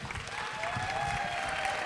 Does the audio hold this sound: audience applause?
yes